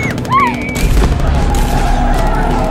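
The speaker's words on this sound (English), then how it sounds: "Bullets begin flying" Loud, rapid gunfire rattles in a sustained burst up close in a Batman audio drama, with a brief high whine just before it starts.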